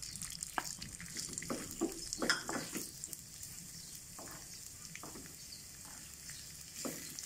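Ginger hits hot coconut oil in a pan for a chicken masala and sizzles steadily throughout, with a few louder scrapes and stirs near the start and no voices.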